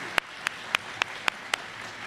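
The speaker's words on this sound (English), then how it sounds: "Give him a round of applause." A handful of slow, evenly spaced claps, six sharp hits in steady rhythm, from an Allentown audience greeting Governor Josh Shapiro; sparse and fairly quiet rather than a full ovation.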